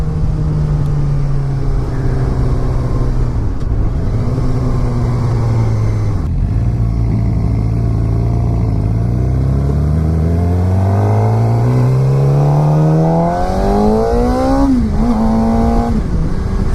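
A 2016 Suzuki GSX-R600 supersport motorcycle accelerating hard, its engine note rising steadily through the revs with brief dips at each gear shift, loud and close throughout with no talking.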